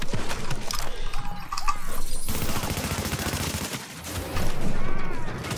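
Enemy gunfire in The Division video game rattles nonstop in loud, dense bursts with mechanical clatter, layered over game music and effects across the whole stretch.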